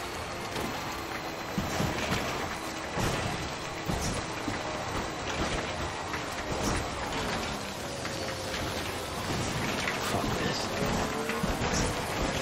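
Steady rain in the video game Death Stranding: Director's Cut patters and hisses throughout, with scattered louder drops and faint mechanical rumbles underneath; no one speaks.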